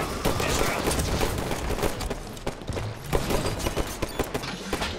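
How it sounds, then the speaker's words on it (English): Dense, continuous gunfire from AI enemies in a Halo 5 Warzone match rattles close and loud as rapid overlapping shots and bursts, with faint game noise beneath. "Oh, the AI shoot me in the back."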